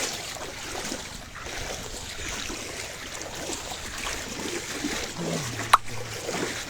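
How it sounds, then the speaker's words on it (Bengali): A strong current of floodwater in Bangladesh rushes past people standing in it. The water makes a steady, close hiss and wash with no break, and a single brief knock rises above it near the end. "পানির এত স্রোত, যেখানে আমরা দাঁড়াইতে খুব কষ্ট হচ্ছে"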